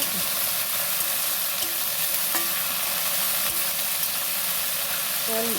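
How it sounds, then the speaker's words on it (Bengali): Okra (bhindi) frying in a pan as it is stirred, a dense, even sizzle holding steady from start to finish, with a few faint scrapes and clinks of the spoon. "তারপরে তোমার ভেন্ডি ভাজা করছি"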